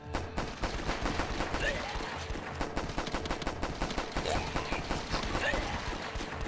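Rapid, continuous gunfire in the video game The Last Stand 2, dense bursts of shots rattling without pause at steady loudness throughout.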